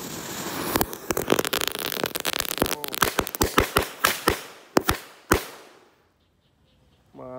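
Superman 2 firecrackers buried in the ground set off one after another, a rapid run of sharp, loud bangs with crackling between them that thins into a few separate blasts before falling silent.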